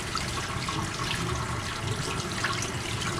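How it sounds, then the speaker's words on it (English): Hot water runs steadily from a tap into a sink while a spiral tie-dyed tee is rinsed, a constant, even hiss and splash at moderate level with no talking. "Swap on over to the hot water"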